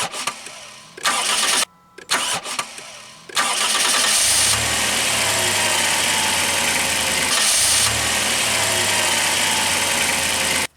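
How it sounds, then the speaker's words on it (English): An old car engine cranks in a few short bursts while a Powrun P-One battery jump starter supplies power, then catches and settles into a steady, loud idle that briefly dips and resumes. "So all we have to do is start the vehicle."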